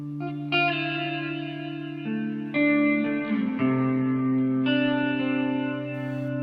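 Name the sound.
Meris Mercury X reverb pedal $5 Milkshake hall reverb setting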